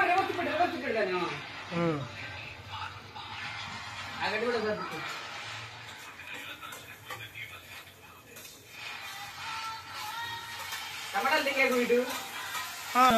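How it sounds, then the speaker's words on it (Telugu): Onions deep frying in oil while being stirred for chicken curry, a steady sizzle with occasional scraping stirs, running under frequent lively chatter and laughter from several people. "ఆనియన్స్ డీప్ ఫ్రై చేసుకోవాలి"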